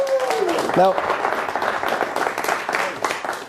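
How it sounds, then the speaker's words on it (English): An audience applauds steadily for a few seconds, with a voice speaking briefly over the start of the clapping before it carries on alone. "let's give Carrie a big round of applause"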